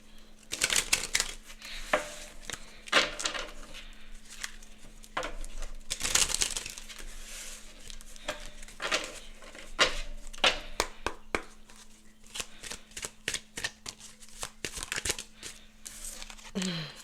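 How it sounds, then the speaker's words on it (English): Deck of tarot cards being shuffled: irregular papery riffles, crinkles and flicks recorded close, with short bursts and pauses, a faint steady hum underneath and no voice. "I'm going to shuffle"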